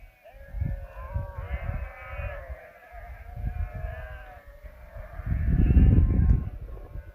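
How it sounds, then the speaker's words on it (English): A flock of sheep bleats repeatedly, several overlapping calls near and far, on the Colorado Trail, with a burst of louder wind or handling noise toward the end. "Oh, you can hear those sheep before you see them."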